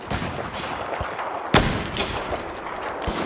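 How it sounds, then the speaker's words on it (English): Video game gunfire in Battlefield 4 on the Altai Range map, with rapid bursts of automatic fire and a sharp, loud shot standing out partway through, against continuous battle noise. "Who's shooting you?"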